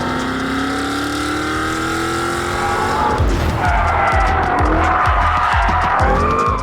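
A loud sports car engine roars and shifts through gears, with rapid repeated tire squeals and engine bursts in the second half, close and continuous, from a Cadillac CT5-V Blackwing, Tesla Model S Plaid or BMW M5 CS.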